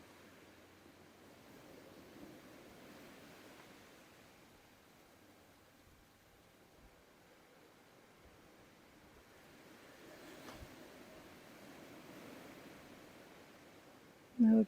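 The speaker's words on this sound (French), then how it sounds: "Vous entendez peut-être même le son des vagues." Ocean waves washing onto the shore, a soft, continuous surf wash with gentle swells under quiet wind, fairly faint and distant, ending in a brief sharp noise.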